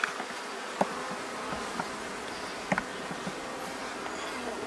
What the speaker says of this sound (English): Now we got lots of bees.